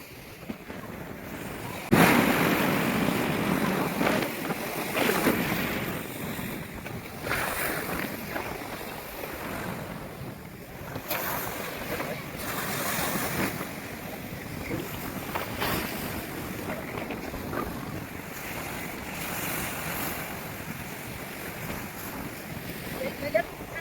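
Waves and moving water wash steadily around a boat in Pondicherry, with wind buffeting the microphone throughout and a voice speaking briefly.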